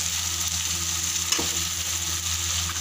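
Eggplant fries in a pan of cooked masala for an aloo-baingan sabzi, giving a close, steady sizzle with a faint stirring scrape midway.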